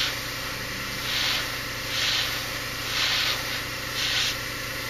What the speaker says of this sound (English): You see, I'm really spraying in one direction. I start applying paint here and I stop here.